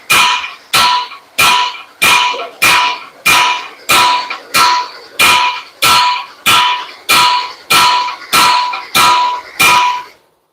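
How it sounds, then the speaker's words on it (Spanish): A blunt chisel struck with a hammer against the rear axle of a Ford Cargo 1721 truck while checking for a crack: about fifteen loud, evenly spaced metallic blows, each with a short ringing tail, close up and alone. "Y nuevamente volvemos a aplicar la técnica del cincel romo."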